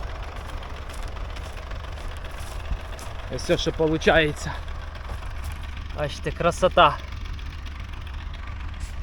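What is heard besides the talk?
tractor running with disc cutting roller in sunflower field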